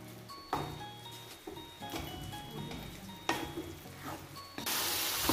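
Beef pepper roast, Kerala style, sizzles and fries in a pan as it is stirred, with scraping strokes and bursts of crackling close up, the sizzle swelling louder at the end.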